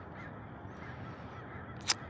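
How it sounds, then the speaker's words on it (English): A crow caws once at night near a Los Angeles home deck during the Palisades fire, a single short call near the end over a steady low background hum. "There's all the crows. They're always at this time of night though."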